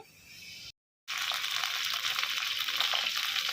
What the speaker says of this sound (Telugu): వంకాయలు కడుక్కొని కట్ చేసేస్తాను